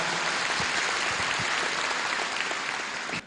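Sustained audience applause fills a hall at a Giffarine business seminar in Chiang Mai, given for a doctor on stage; the steady dense clapping holds throughout and cuts off abruptly at the end.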